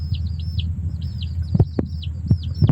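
Chicks cheep in quick, high repeated peeps, mixed with a few low thumps and clucks close by.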